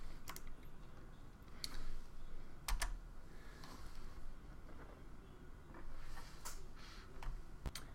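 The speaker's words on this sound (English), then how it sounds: "let me go ahead and type AWS configure" Keyboard typing of the AWS configure command in a terminal, with scattered close keystrokes and sharper key presses spread over several seconds against a low steady room hum.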